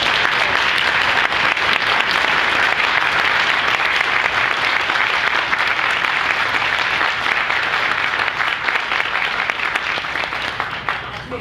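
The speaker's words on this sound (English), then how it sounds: "you would do me a great honor if you would give him a big round of applause" Loud, dense audience applause fills the room without a break at a Muni 100 Years of Service celebration, a steady crowd of clapping that holds strong throughout and eases only slightly at the very end.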